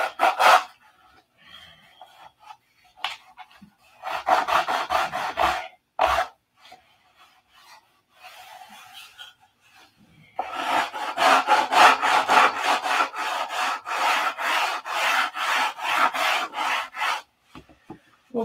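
Hand sanding on a balsa wing for a 1/2A Cobra model airplane, with short bursts of rasping strokes early on and then a long steady run of rapid, even back-and-forth scrubbing, close and fairly loud, with pauses between.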